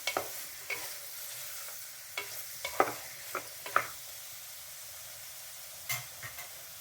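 Black pepper and cumin seeds tempered in hot oil for a millet pongal, giving scattered quiet pops and crackles with gentle sizzling between them. No one speaks.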